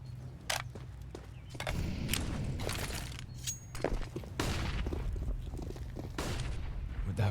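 Gunfire in a professional CS:GO esports match: a Tec-9 pistol and other weapons fire in sharp, irregular bursts amid steady game ambience and faint footsteps, with rapid shots clustered across the clip.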